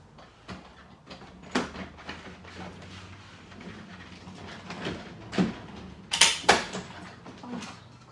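A die-cutting machine presses patterned paper through, giving a run of creaks, soft cracks and crunchy snaps over a low mechanical rumble, with a few louder sharp cracks near the end.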